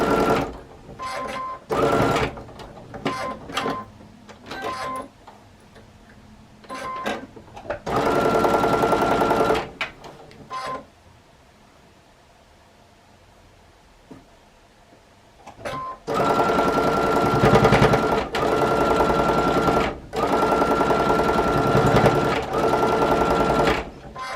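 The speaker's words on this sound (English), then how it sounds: "So I'm just going to sew and then show you the completed block." A sewing machine stitches pieced quilt block fabrics together in several loud, close bursts of rapid whirring, with short quiet gaps and a longer pause between runs.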